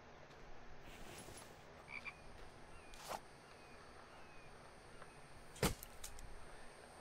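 Frogs croak in a video game, sparse and soft against a quiet background, with a few sharper clicks and bursts coming in between.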